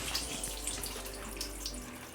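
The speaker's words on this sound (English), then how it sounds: "washed it with some cold water just to get rid of the excess bleach" Cold tap water runs steadily over a bleached t-shirt in a sink, a continuous close hiss and splatter of flowing water with no pauses.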